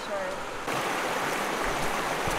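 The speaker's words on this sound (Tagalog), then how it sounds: "First river crossing, ito ang ilog na tatawirin namin." A river rushes steadily at a hiking trail crossing on a mountain in Pampanga, a dense, continuous broadband flow of water close by, with no talk heard.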